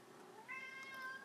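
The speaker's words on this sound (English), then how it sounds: "I don't know, that's my cat." A house cat gives a single soft, rising meow, faint and slightly distant in a quiet indoor room.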